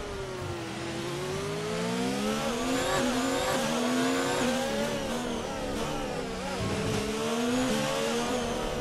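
A Formula 1 race car engine from the F1 2019 video game, qualifying at the Baku street circuit in Azerbaijan, whines loudly and steadily, its pitch rising and falling through gear changes with no speech.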